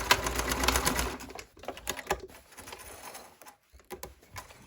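A sewing machine backstitches the end of a French seam on a classic tote bag, giving quick bursts of close mechanical clatter broken by short pauses as the stitching reverses direction.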